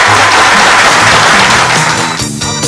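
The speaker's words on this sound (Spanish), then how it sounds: "Fuerte el aplauso." A studio audience claps loudly and continuously to welcome an interview guest, a dense, steady round of applause with a voice breaking in near the end.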